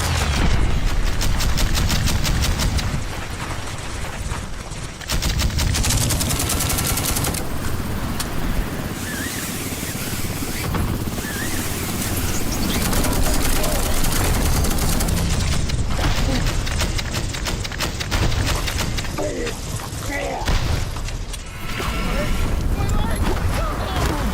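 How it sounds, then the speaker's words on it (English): Gunfire and explosions from a 2024–2025 tactical shooter game trailer with pistols, rifles and explosives: dense, loud, continuous blasts and crackling bursts under heavy music-like rumble, with brief quieter gaps. "Gameplay will focus on using various tactical gadgets and weapons, such as pistols, rifles, and explosives"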